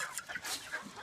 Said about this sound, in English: I'm feeding our chickens